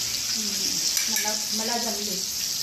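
Stuffed pomfret fries in a pan with a steady, close, loud sizzle that holds throughout, while faint voices murmur underneath.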